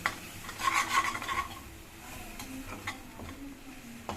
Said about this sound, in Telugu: అన్నీ బాగా కలుపుకోవాలి.